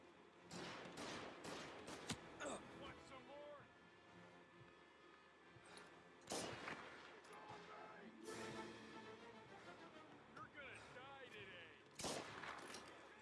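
Gunfire in Mafia Definitive Edition, several bursts of rifle and gun shots spread across the span, loud sharp cracks with game sounds between them.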